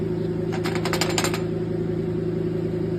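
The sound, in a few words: Sawzall reciprocating saw cutting aluminum intake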